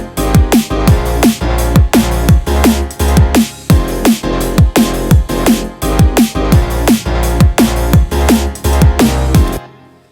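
Synthesized chords and a deep bass note play together in Ableton Live in a steady, loud, repeating rhythm of punchy hits for about ten seconds, then stop abruptly.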